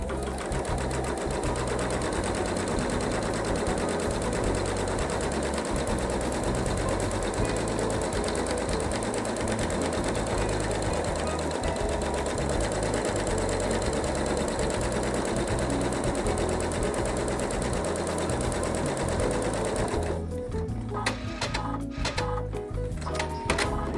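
A sewing machine stitches fabric for half square triangles in a quilting setup, running steadily and loudly with a continuous rhythmic whir for about twenty seconds, then stopping and leaving a few sparse clicks.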